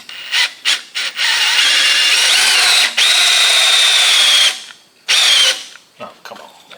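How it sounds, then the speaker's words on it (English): A 12-volt cordless drill whirs loudly on a wrecked Jeep Cherokee engine with a bad motor, in short bursts followed by two long sustained runs that pause and then restart once more. "Alright, 12 volt drill,"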